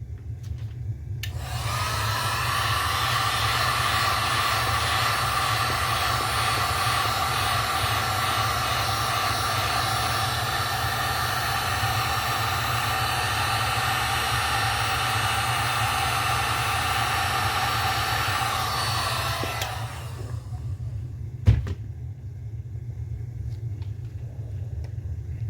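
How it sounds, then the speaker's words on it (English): A heat gun blows steadily on epoxy resin tinted with alcohol inks, a close, constant whirring rush that runs for about eighteen seconds before switching off, followed by a single soft knock. "You hit it with the heat gun."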